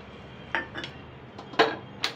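Spoon clinking against a metal pan while two spoonfuls of ghee are added for coconut barfi, giving about four short, sharp metallic taps spread over two seconds in a quiet kitchen.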